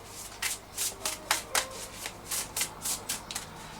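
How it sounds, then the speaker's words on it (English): A deck of cards being shuffled by hand, about a dozen crisp riffling bursts in a steady rhythm, close and fairly quiet against a low background hum, with no talk. "I'll just grab a few cards first, let the messages come through."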